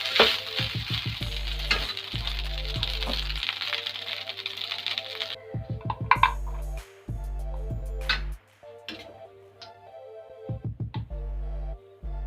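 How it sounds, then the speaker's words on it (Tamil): Cashews and chopped onions are stirred together in a hot pan for cashew rice, bringing a close sizzle and bursts of metallic scraping and clinking from the spatula, with background music running beneath and no talking. "நம்ம எடுத்து வச்சுருக்கிற முந்திரியும் வெங்காயத்தையும் சேர்த்து நல்லா மிக்ஸ் பண்ணிக்கலாம்"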